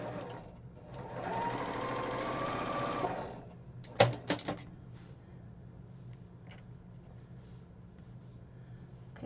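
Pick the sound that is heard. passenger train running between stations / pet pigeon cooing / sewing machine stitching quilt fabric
sewing machine stitching quilt fabric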